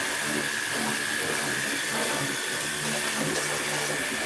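A Worx Hydroshot portable power cleaner running off a pressurised hose pipe sprays a very strong jet of water, making a steady, close, hissing rush that does not let up.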